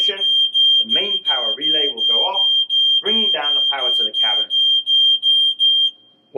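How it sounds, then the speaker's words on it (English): A server rack cabinet's smoke alarm beeps in a steady rapid pulse, high and piercing, continuing throughout while a person talks over it. "In the event of a fire, the smoke alarm will sound"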